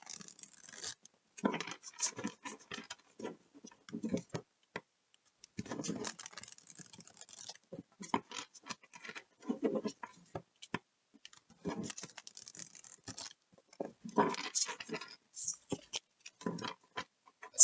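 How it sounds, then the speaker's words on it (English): A tarot card deck is shuffled by hand, with quick bursts of riffling card flicks and soft slaps, close and fairly quiet, in short uneven runs separated by brief pauses. "I'm going to give it a good shuffle"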